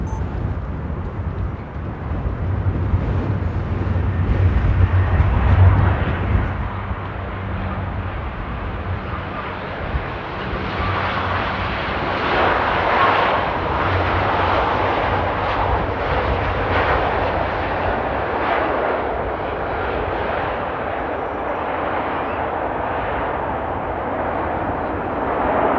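A British TUI airliner arriving at a windy, snowy Amsterdam Airport, its engine roar broad and steady throughout, louder and rumbling early on, then holding a sustained whine and rush as it passes.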